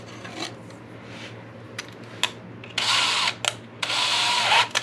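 A brad point bit bores through a thin guitar headstock veneer in two short, close bursts of high, gritty drilling, with small scrapes and handling noises between them.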